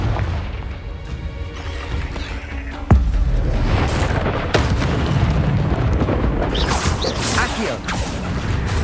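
A Confringo fire spell explodes in the Hogwarts Legacy video game, a sharp blast landing near the three-second mark over a dense bed of continuous game-combat noise, with further rumbling hits and whooshes trailing after it.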